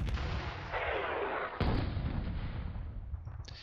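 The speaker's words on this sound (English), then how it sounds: "We've got some artillery here. Let's just keep firing on those." Artillery fires in a Panzer Campaigns wargame set in the Bulge 1944 at St Vith, with two deep booming reports, the second sharper and louder, each trailing into a long rumbling decay over a steady background roar.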